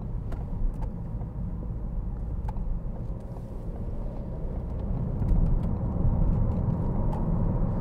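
A 2014 Ford Focus 1.6 Titanium driving along a road, steady low engine and tyre rumble from inside the cabin, gradually swelling louder with a few faint ticks.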